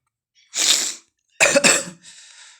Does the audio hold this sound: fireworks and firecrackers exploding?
no